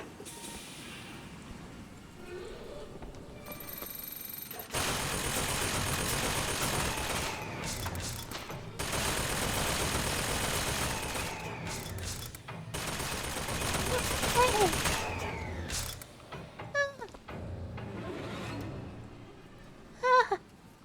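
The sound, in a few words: shotgun gunfire in a video game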